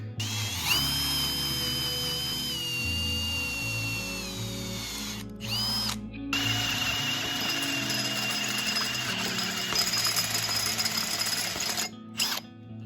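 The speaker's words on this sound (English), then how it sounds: "So I ended up drilling 6 holes." Power drill boring pilot holes into the steel housing of a Dana 30 axle, a sustained high whine under load with brief pauses between holes and a ratcheting mechanical undertone.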